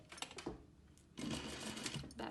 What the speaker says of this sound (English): So I'm going to sew it at 3/8.